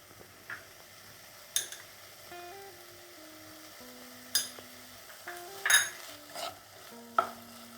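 A spoon stirs onion, tomato and cashew masala with added salt in a pan for a paneer peas masala, giving soft intermittent scrapes and ticks over a quiet background, with a few sharper clinks.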